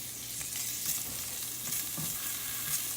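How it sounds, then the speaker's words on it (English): Bacon sizzles and crackles steadily in a hot pan, a dense close frying hiss with occasional louder pops, no voices over it. "Bacon's starting to cook."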